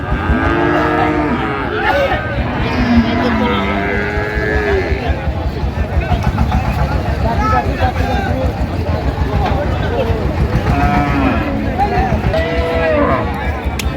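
Improved-breed dairy cows and calves low repeatedly at the Raniganj cattle market in Dinajpur, their drawn-out moos rising over a constant din of people talking and market bustle.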